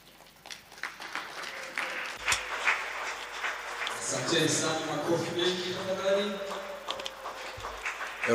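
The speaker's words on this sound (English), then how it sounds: "A round of applause." A crowd claps in a steady, moderately loud patter, with voices talking over the applause.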